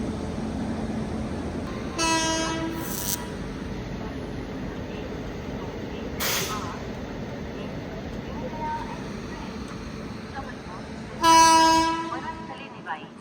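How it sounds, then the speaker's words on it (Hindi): Electric locomotive horn of the Nanda Devi Express sounding as the train departs, with two clear honks, the second louder and closer, over steady railway ambience while someone talks. "ओ हो, क्या जबरदस्त हॉकिंग।"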